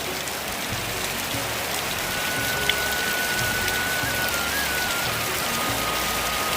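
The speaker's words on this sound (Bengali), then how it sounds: "গ্রামে বৃষ্টি হলে ওই টিন কিংবা অ্যাজবেস্টার চালের উপরে যে জলটা পড়ে ওই আওয়াজটা শুনতে বেশ ভালো লাগে" Heavy rain drums steadily on a tin or asbestos roof in a West Bengal village, a dense, even patter that continues without pause and with no voices.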